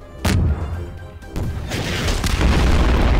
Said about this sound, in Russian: Все, я сейчас будет взрыв